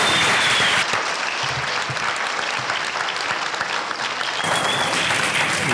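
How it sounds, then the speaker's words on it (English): Sustained audience applause at a Warrenton town forum held at Taylor Middle School, a dense, steady wash of many hands clapping throughout, fairly loud and close, with no talking over it. "They deserve a round of applause as well"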